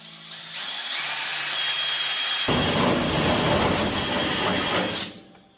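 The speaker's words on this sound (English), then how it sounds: "that old rusty steel's pretty easy to drill" A power drill whines up and bites into rusty steel on a 1950 Mercury truck, grinding steadily for a few seconds before winding down, loud and close.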